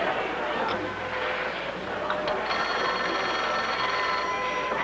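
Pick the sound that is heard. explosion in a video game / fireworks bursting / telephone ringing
telephone ringing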